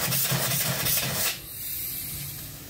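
A single-cylinder live steam engine hisses loudly as its valves open and blow steam out. The broad rushing hiss lasts about a second, then drops to a softer steady hiss, with no talking.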